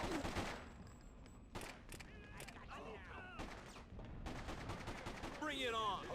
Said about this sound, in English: we can pretty much just rapid fire this as quickly as we can pull the trigger